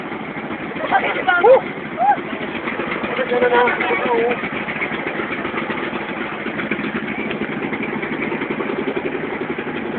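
A motorcycle engine runs steadily nearby, a rough continuous rumble with people talking over it.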